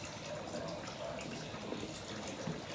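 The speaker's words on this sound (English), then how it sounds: "So putting them in seasoned boiling water." Potatoes go into a pot of seasoned boiling water for a seafood boil, with a constant, fairly faint wash of bubbling and splashing liquid that runs evenly throughout.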